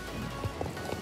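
Horse hooves gallop in the video game Star Stable Online as the horse carries cargo on its back: a faint, brief run of soft hoof beats over a steady background hum.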